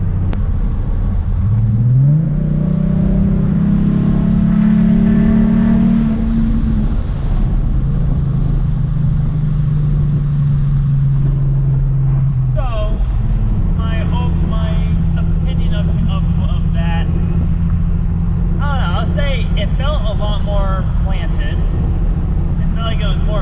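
A loud, tuned Ford Mustang engine revs and climbs in pitch under full-throttle acceleration, then holds a steady drone before revving again, close and continuous.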